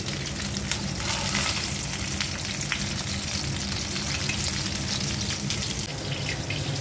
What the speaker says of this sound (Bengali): মাছ ভাজাটা হয়ে গেছে, এখন আমি উঠিয়ে নিচ্ছি।